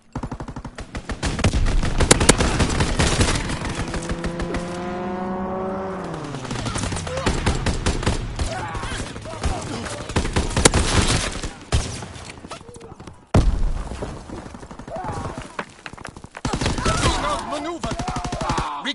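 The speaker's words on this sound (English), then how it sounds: "Strafing run inbound." Strafing-run gunfire in a video game: rapid machine-gun bursts rattle loud and close, broken by a descending engine whine as the aircraft dives past, then more sustained firing.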